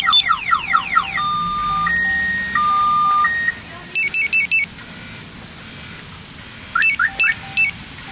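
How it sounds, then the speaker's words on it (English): Car alarm going off on a Dodge Hellcat: a loud sequence of shifting electronic siren tones, warbling chirps and steady beeps, followed by bursts of rapid high pulsing tones, with faint background noise throughout. "As soon as you try to get in it, anything. Alarm going off."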